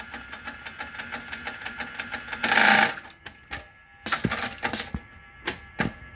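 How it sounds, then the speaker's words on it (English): A G type cylinder bed sewing machine with an old West German servo motor, needle positioner and pneumatic foot lift runs in a fast, even stitching rhythm, then a loud pneumatic hiss, followed by separate short bursts of stitching, close and clear. "this machine is the G type, and so it's got an old West German servo with needle positioner and integrated pneumatic foot lift"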